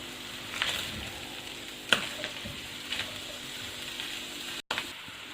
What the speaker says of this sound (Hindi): अब 1 मिनट हम इन सब चीज़ों को पकाएंगे ऑयल में